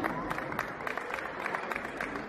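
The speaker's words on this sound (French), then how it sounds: "On peut aussi les applaudir." A crowd claps at an outdoor Telethon charity event with firefighters, a fairly distant, even patter of applause mixed with crowd murmur for a couple of seconds.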